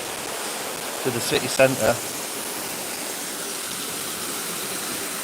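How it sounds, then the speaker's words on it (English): Waterfall at the Kingsmill viaduct nature reserve, a steady broadband rush of falling water filling the whole clip, with a voice speaking briefly over it early on. "So here we are, the top of the waterfall."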